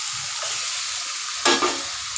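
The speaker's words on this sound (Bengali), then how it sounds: "আমার পেঁয়াজ ভাজা হয়ে গেছে, এবার আমি মাটনটা এর ভেতর দিয়ে দেবো" Mutton goes into a pan of fried onions with a steady close sizzle, then a sharp burst of scraping and spitting as the meat is stirred in, with no talking.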